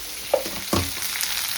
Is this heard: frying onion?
yes